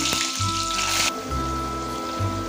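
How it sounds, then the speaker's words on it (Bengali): Chopped onion tipped into hot oil for a Bengali mutton curry, hissing into a loud bright sizzle that drops to a softer steady frying crackle, close and alone. "এবার পেঁয়াজটা আমি ছেড়ে দিচ্ছি"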